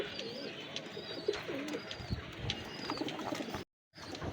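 Prince Kamagar pigeons, an old red breed from Khulna, coo softly in repeated low murmuring calls, fairly quiet and close, with a brief cut near the end.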